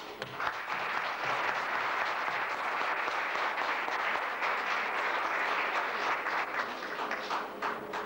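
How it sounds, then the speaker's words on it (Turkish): Guests at a university year-end cocktail reception applaud in honour of a late professor, many hands clapping in a steady, full round that holds evenly throughout. "Onu da alkışlıyoruz."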